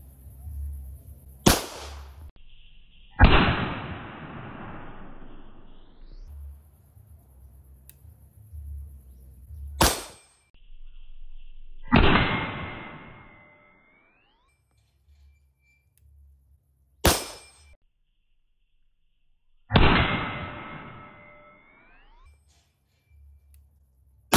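A pistol firing low-powder 4.1-grain Fox TP loads at an outdoor range, three sharp loud shots spaced several seconds apart, each followed by a long ringing decay, with other loud cracks between them.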